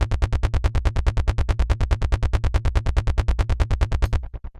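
A Roland SH-101 style synth arpeggio played dry in Omnisphere, with no effects: a fast, even run of bright, punchy notes repeating steadily for about four seconds, then ending on a short decaying tail.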